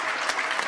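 Brief burst of steady audience clapping at a committee meeting, honouring the outgoing chair, many hands at once, dense and continuous.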